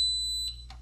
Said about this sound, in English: or until I hear the beep